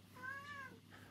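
A domestic cat gives a single clear meow, fairly close and alone, with a rising then falling tone over about a second.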